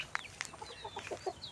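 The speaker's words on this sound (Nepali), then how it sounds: "यो मेरो दिदीको कुखुरा" A hen clucking close by in short, repeated bursts, a brief rhythmic run of clucks with no talk over them.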